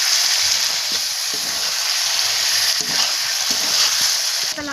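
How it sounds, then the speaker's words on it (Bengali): Chicken kosha curry fries in a pan with a dense, constant sizzle and hiss, broken by soft scraping taps of stirring, close and unaccompanied by talk. "একটু নাড়া দিয়ে নেব।"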